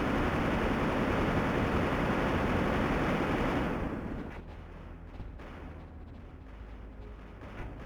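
Heavy artillery fire in the video game Mech Engineer: a loud, sustained roaring rumble for about four seconds, then it drops to a quieter low-frequency background with a few faint thumps.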